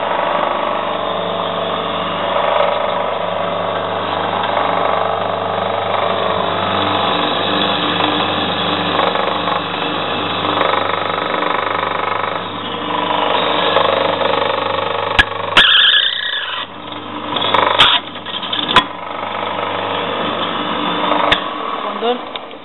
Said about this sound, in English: So Dom's just going to start drilling the first one now